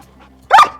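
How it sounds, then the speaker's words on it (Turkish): A dog during crawl training gives a single loud, close bark after a faint whine, a short sharp burst standing out against near silence. "Öyle inleyerek, havlayarak olmaz bu işler."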